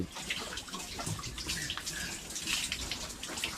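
Water splashes steadily over a pig being washed in its pen, a continuous close, busy spatter of running and dripping water.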